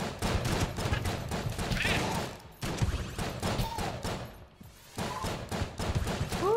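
Gunfire and bullets in the video game Enter the Gungeon: dense, rapid bursts of shots that keep going in volleys with short lulls in between, along with occasional whooshing effects, loud and with no talking.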